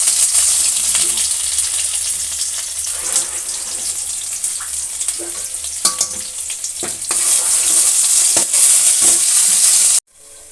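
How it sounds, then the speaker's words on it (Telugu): Onions fry in a pan for sambar with a constant close sizzle, broken by occasional stirring taps and scrapes before the sound cuts off sharply. "ఉల్లిగడ్డలు అయితే వేగినాయి"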